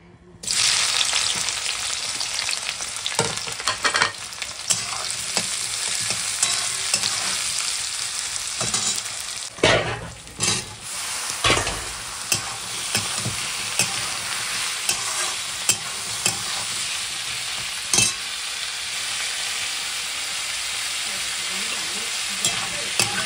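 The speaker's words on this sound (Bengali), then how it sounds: "এই যে দেখো আলু পেঁয়াজটা ভাজা হয়ে গেছে" Potatoes and onions frying and being stirred in a pan, a steady close sizzle with scraping stir strokes throughout and a brief lull partway.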